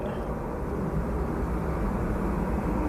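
Aircraft taking off from the runway at Manchester Airport: a steady, broad jet engine roar heard from a distance, continuous and even throughout with no talk.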